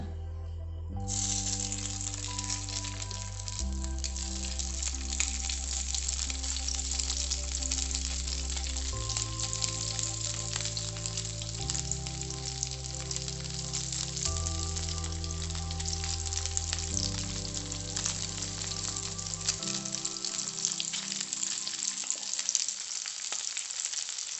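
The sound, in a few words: pathrode slices frying in hot oil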